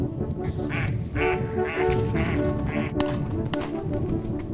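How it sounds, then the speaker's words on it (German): Ducks quack in a series of short, nasal calls over a steady background murmur, with a couple of sharp broadband clicks near the end. "Im Visier Enten."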